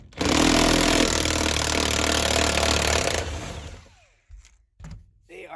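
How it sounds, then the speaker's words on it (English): An impact wrench removes tight T50 Torx seat belt bolts inside a 1977 Chevy Camaro, giving a loud, sustained hammering whir for about three seconds, then winding down, followed by a few brief clunks and knocks nearby. "I'm using my impact to get them out"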